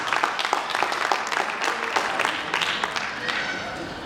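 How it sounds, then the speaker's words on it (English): Conference audience breaks into applause for an organiser, a lively wash of many clapping hands at moderate distance, with some murmured voices mixed in. "Please give a big round of applause to Rekha."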